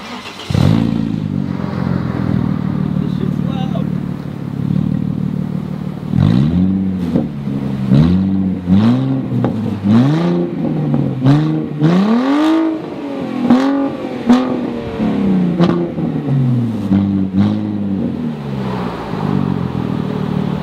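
A straight-piped Audi A4 starts up and idles loudly, then blips its throttle in a series of sharp rising and falling revs, harsh and raspy close to the exhaust, with no talking.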